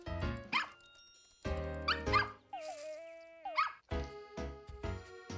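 A virtual puppy in Nintendogs + Cats yips, whimpers and barks in short bursts, some higher whiny cries mixed in, close and fairly loud with no talking.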